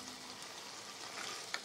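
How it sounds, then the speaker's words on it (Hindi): Chicken liver frying with spices in oil, giving a faint, steady sizzle with one small clink near the end. "अब हम इसको 1 से 2 मिनट के लिए अच्छे से हम भूनेंगे मसालों के साथ।"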